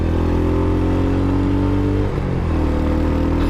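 A Royal Enfield HNTR 350 motorcycle engine rumbles steadily and loudly up close, a deep even drone that dips briefly partway through before settling back, with no talking.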